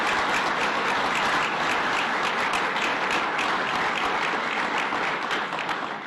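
A large audience applauds law enforcement officers at Governor Cuomo's Old Westbury event on combating heroin use; dense, loud, sustained clapping that fades slightly at the end.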